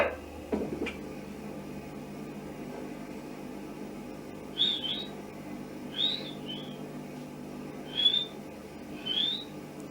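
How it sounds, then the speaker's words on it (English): Old tape recording of whistling attributed to the Enfield poltergeist: four short, faint, rising whistles spaced a second or two apart over a hissy background, preceded by a brief knock. "You'll hear here the whistling first of all, and then the barking."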